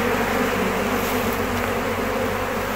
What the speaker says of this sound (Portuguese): As abelhas limpando a cera.